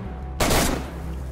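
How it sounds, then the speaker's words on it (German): A single loud burst of gunfire in the video game DayZ, one sharp close report that rings briefly and decays, with no talk over it. "Ich sehe unten bei der Leiche. Schüsse."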